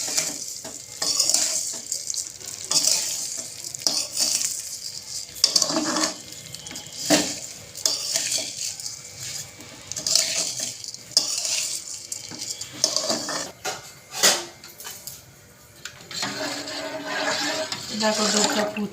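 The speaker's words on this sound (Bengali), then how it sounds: "সিমইটা দিয়ে আমি সুন্দর করে লাল করে ভেজে নেব" Vermicelli (semai) frying with cardamom in a pan, stirred with a utensil: repeated scraping and clinking against the pan over a soft sizzle, close up, with occasional background voices.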